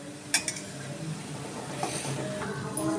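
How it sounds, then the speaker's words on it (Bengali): Semolina chushi pitha pieces fry in hot oil, a steady low sizzle with a few sharp clinks of a utensil against the pan near the start and soft stirring throughout. "এইভাবে আমি আস্তে আস্তে সবগুলো ভেজে তুলে নিচ্ছি।"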